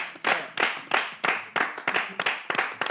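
Audience at a French live show clapping in a rhythmic unison beat, roughly three claps per second, fairly close and steady.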